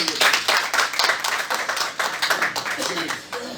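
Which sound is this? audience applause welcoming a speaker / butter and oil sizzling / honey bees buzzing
audience applause welcoming a speaker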